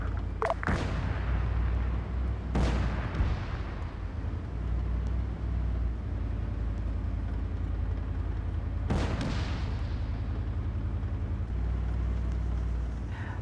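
A tank in a training video game fires on a building: three sharp heavy booms spaced several seconds apart, each with a rolling tail, over a constant low engine drone.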